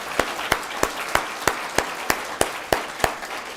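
Audience applause for a birthday at a formal academic electoral-law event, with a steady run of about ten sharp clap bursts evenly spaced across the stretch, fairly close and alone without speech.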